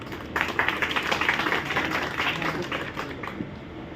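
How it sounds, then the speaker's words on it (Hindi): A crowd at a fire safety mock drill breaks into steady applause, dense clapping sustained across the whole stretch and easing slightly toward the end, with no talk over it. "इसके लिए एक बार तालियां बजा दो"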